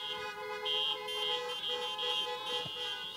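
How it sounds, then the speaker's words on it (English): A car horn sounds outside during an indoor medical presentation on HIV prevention, a steady, slightly pulsing tone held for about three seconds at moderate volume, somewhat distant. "thank you, whoever honked"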